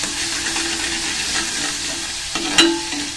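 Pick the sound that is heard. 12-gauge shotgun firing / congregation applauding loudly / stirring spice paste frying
stirring spice paste frying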